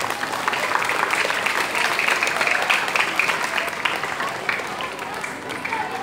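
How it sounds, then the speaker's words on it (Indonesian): A crowd at a school ceremony for National Teachers' Day at an elementary school applauds the teachers, a sustained dense clapping with crowd voices mixed in, steady and fairly loud throughout. "Tepuk tangan buat guru semua."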